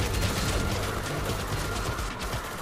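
Gunfire in Tom Clancy's EndWar, a steady, dense spray of rapid shots and battle noise running without a break through the whole stretch, with no voices over it.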